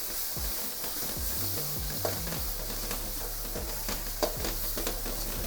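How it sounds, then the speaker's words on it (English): Fermented soybeans and garlic stir-fry in a pan, with a continuous close sizzle broken by a few sharp scrapes and clinks of a utensil, no voices. "give it a little bit of a stir fry."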